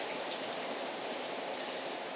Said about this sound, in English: So, as you can probably tell, it's raining pretty good.